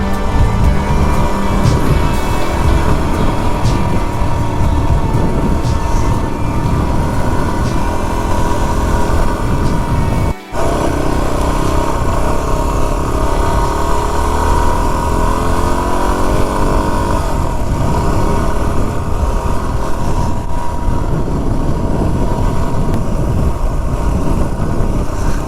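A Yamaha WR250-R dual-sport motorcycle rides along a paved road with a steady engine drone and strong wind rush throughout, the pitch shifting slightly as it changes speed.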